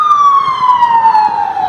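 A loud, close ambulance siren wails with a steady falling tone, sustained without a break.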